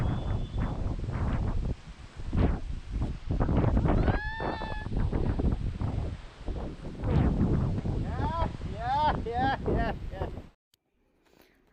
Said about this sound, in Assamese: কিমান বতাহ মাৰিছে চাওকচোন।